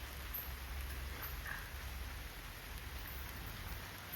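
A faint, even patter of light rain drizzles steadily with no other sounds.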